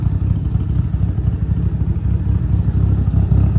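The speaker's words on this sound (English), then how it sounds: "I'll do a little bit of a rev for you with some two-step," A 2003 Mitsubishi Evo 8 engine revving on a two-step launch limiter, a dense, rough low-pitched burble with rapid stuttering pops, loud and close throughout with no talking.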